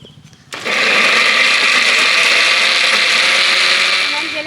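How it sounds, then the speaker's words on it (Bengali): A mixer grinder switches on abruptly and runs with a loud, steady whirring roar, staying close and continuous until the end. "এবার আমি মিক্সিতে ঘুরিয়ে নেব"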